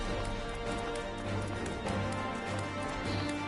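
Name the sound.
porter chocobo running footsteps in Final Fantasy XIV video game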